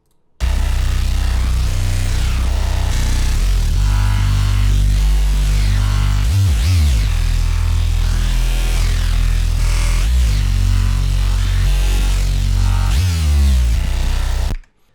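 Thick, gritty synth bass notes pulse loudly and continuously, sliding and punching in a repeating pattern with no talking.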